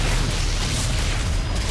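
A cannon building is destroyed in a StarCraft match: a loud, continuous rumbling blast fills the whole moment, dense and booming with no talk over it.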